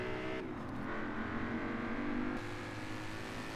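A Ford Mustang in Forza Horizon 4 runs down the final straight of a custom test track, its engine holding a steady, moderately loud drone with a sudden shift partway through, and no one speaking.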